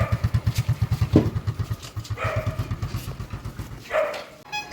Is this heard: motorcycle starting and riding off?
yes